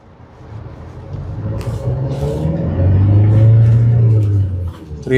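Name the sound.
Hyundai Creta diesel car starting and driving in first gear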